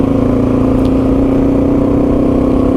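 A Yamaha TW200 dual sport motorcycle engine pulls hard under acceleration on a ride, a loud, steady, droning single-cylinder tone close to the rider with no talking.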